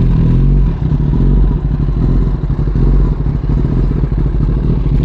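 A Kawasaki ZX10R motorcycle fitted with an SC Project SC1-R exhaust idles close by outdoors, a loud, steady, deep burbling rumble with uneven pulsing throughout and no voices.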